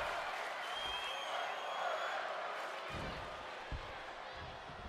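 A steady, dense crowd roar fills a wrestling arena in WWE 2K22, constant and fairly loud, with a few thuds of ring impacts and commentators speaking over it.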